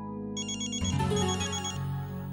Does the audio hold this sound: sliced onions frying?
no